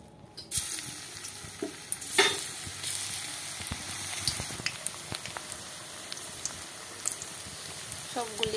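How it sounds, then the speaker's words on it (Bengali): Soybean pakoras are dropped one by one into hot oil in a kadai, setting off a loud, continuous sizzle with occasional bursts and crackles as each piece hits the oil. "এবার এগুলিকে একে একে করে দিয়ে দেব কড়াইয়ের মধ্যে।"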